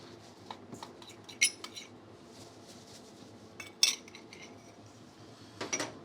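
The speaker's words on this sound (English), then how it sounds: "I'm just gonna grab a spoon. In goes my margarine first. Followed by my sugar." Spoon scooping margarine and sugar into a mixing bowl, a few sparse metallic clinks and scrapes against the bowl with quiet pauses between, close by and without speech.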